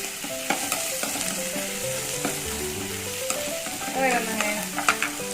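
Sliced onions frying in a pan for Mysore masala dosa, a continuous close sizzle with occasional stirring scrapes, while a steady tonal melody plays in the background; no talking.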